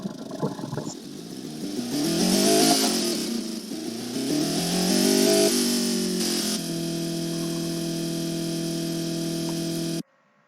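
A hot hatch car engine in the video game BeamNG.drive revs up and down in rising and falling sweeps, then settles into a steady buzzing hold before cutting off abruptly.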